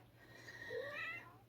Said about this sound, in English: I have a cat in heat over here, so you might hear her in the background.